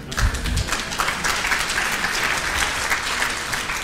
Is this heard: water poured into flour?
no